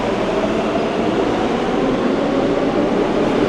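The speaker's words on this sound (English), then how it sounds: "Here goes the L train." A New York City L train subway passes with a dense, steady roar of wheels and rail noise, loud and close, with no voices.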